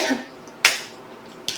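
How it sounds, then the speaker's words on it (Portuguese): A person coughs twice, short and sharp, close to the mic, with a brief quiet gap between the two. "Eu tenho aqui, neste momento, um resquício de tosse."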